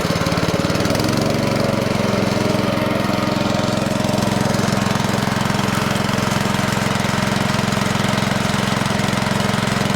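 Allis-Chalmers Model D grader engine running steadily and loudly up close, a constant rough mechanical drone after a brief start-up moment, with no talking.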